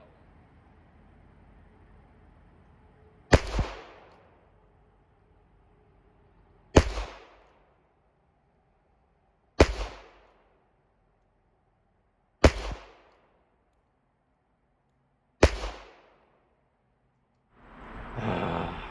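Five loud, sharp gunshots from .38 Special military and police revolvers, evenly spaced about three seconds apart, each with a quick decaying echo in an open setting, ending with a softer muffled noise.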